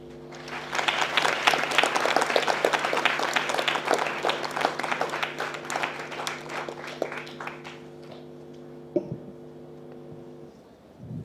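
Scattered audience applause follows a brochure unveiling at a health conference event, modest and fairly thin, fading out over several seconds with a low hum underneath and a lone knock near the end.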